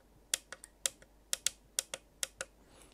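A dozen or so crisp, sharp clicks from pressing the USB BIOS Flashback button on an ASUS Prime B450M-K II motherboard, in quick irregular bursts, close and alone against near silence.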